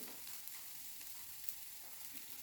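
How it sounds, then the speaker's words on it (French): Onions sweat and fry in a pan over lowered heat, giving a steady, soft sizzle that stays faint and even throughout, with only light scraping, and no voices. "Je vais diminuer un tout petit peu mon feu pour ne pas que nos oignons brûlent, mais qu'elles puissent suer un tout petit peu"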